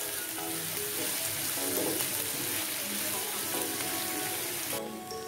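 Onions fry in a pan over a medium-low gas flame for bean-free eggplant masala prep, giving a steady, close sizzle that holds evenly throughout and fades slightly at the very end.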